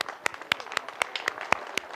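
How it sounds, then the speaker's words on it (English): Brief gratitude applause from a seated audience at a community talk welcoming first-time visitors, heard as a handful of sharp, separate claps spaced roughly a quarter-second apart, fairly faint and alone. "We just do a little gratitude applause."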